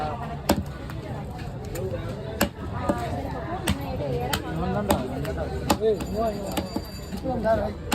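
A big fish being chopped with a knife or cleaver on a board, sharp repeated thwacks at irregular intervals, close and fairly loud, with people talking in the background throughout.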